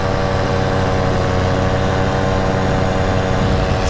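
A Parajet V2 paramotor's Moster 185 engine runs hard in flight, a loud, constant buzzing drone with strong low throb and no let-up.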